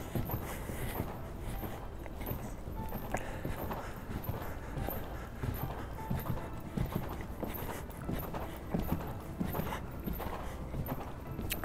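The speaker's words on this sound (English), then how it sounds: "I want her to think a bit more forward and canter." A horse cantering in a dressage arena, its hoofbeats a steady muffled rhythm on soft ground, close and continuous throughout with a constant low background and no clear talk.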